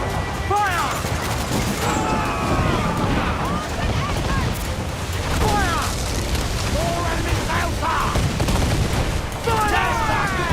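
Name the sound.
pirate ship cannons firing in Assassin's Creed Black Flag video game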